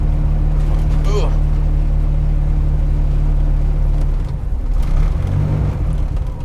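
A Ford Escort engine running as the car drives under its own power on a first drive, a loud steady drone that wavers and dips partway through, then picks up again.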